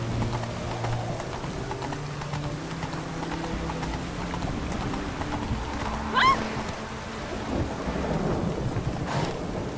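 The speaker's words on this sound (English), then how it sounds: "Witches have conjured rain." Rain and rolling thunder in The Witcher 3 form a continuous low rumbling wash, with horse hooves clip-clopping throughout and a brief sharper cry near the middle, no talking.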